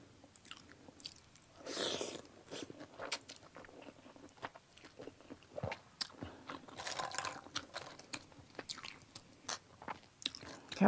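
Crunchy Thai pork cracklings being chewed up close, a steady run of crisp crackling bites and grinding crunches with short pauses between mouthfuls, quiet and intimate, no talking.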